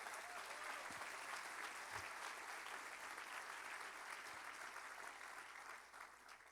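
A church congregation applauds steadily in a broad, sustained wash of clapping that fills the whole stretch without a break and fades slightly near the end. No one speaks over it.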